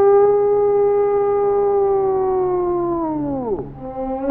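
A human voice imitates a coyote howl, a long sustained wavering tone that slowly slides downward and dips near the end, loud and alone.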